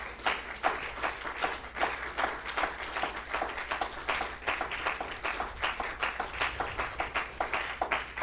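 A church congregation applauds the Lord with steady, rhythmic clapping that pulses in a regular beat throughout, dense and moderately close, with no talking over it.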